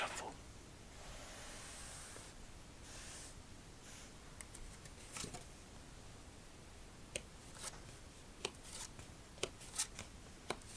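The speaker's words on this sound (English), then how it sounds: "always love to give a thorough shuffle." Playing cards shuffled by hand during a solitaire game, a soft continuous riffle and shuffle texture in a quiet setting, closing with several sharp card snaps and taps.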